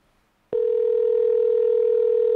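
On a Skype call, a telephone dial tone cuts in abruptly after a moment of near silence, then holds as a single steady, clean, unbroken hum at moderate loudness with no talking.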